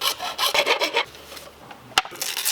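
A hand saw cuts out a section of a cruise control bracket for a Land Rover Defender, with rapid rhythmic rasping strokes close up, a pause, then a sharp knock and more sawing.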